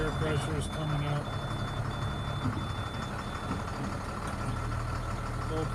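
A 2005 Altec AA600L truck idles steadily up close, its engine a constant low rumble. A backup alarm beeps repeatedly and evenly over the engine noise throughout.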